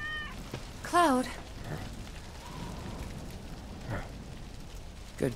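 A cat meows in Final Fantasy 7 Remake, one short, clear, rising call heard close over a low ambient game soundscape, with faint voices nearby.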